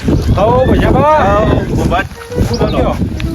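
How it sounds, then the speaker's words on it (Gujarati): Strong storm wind blows across a farm field, roaring and buffeting the microphone loudly and continuously while a voice talks over it. "આ જોજે અમે આ ઉડું છું આખો વાયરાનો"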